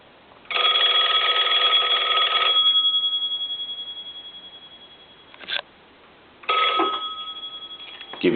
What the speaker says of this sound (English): I'm going to go ahead and ring this telephone. I'm going to give that a couple of rings.